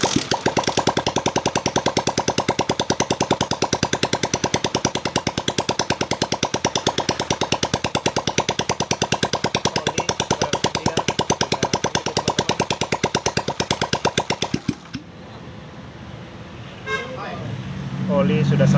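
Suzuki Shogun 125 motorcycle engine being turned over by its kick starter after a cylinder block and head refit, a loud, fast, even train of rhythmic pulses lasting about fifteen seconds, then stopping abruptly into quieter rustling.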